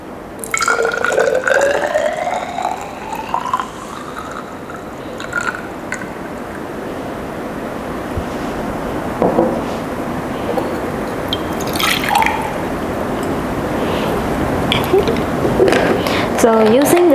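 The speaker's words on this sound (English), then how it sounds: "using a 50 cm3 measuring cylinder, you measure around 50 cm3 of your Fa1 solution" Fa1 solution is poured into a 50 cm3 glass measuring cylinder, a close liquid stream with a rising fill tone at first, then softer trickling and drips, with a person speaking over it.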